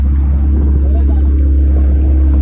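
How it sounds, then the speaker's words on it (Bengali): A speedboat runs through sea waves off Digha, its engine a steady loud drone with constant water rush throughout, while a person speaks over it. "speed boat"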